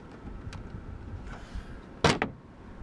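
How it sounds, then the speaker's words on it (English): A rubber door seal on a Peugeot Boxer van is pulled away from the frame: quiet handling noises, then a sharp peeling tear and a shorter follow-up rip near the end. "if you pull this door seal off"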